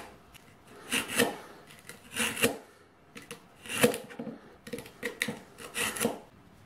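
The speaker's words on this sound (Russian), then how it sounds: "И вот таким способом по кругу прорезаем каждый лепесточек." Repeated rasping cuts into the worn abrasive petals of an old flap disc, heard as short scraping bursts about once a second, close up, with short pauses between.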